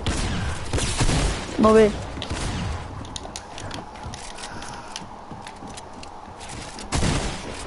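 Bursts of gunfire crack in a game of Fortnite, with loud volleys at the start and end and softer shots between, while a player talks over them.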